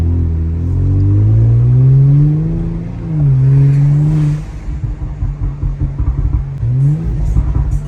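A tuned Kia Stinger's exhaust heard from inside the cabin, a loud droning engine note sweeping up and down through downshifts, then breaking into a rapid burbling crackle on lift-off.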